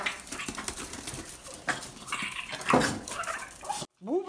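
A dog at its food bowl gives soft whimpering sounds amid light clinks and shuffling, with a muffled voice in the background and a brief drop to near silence near the end.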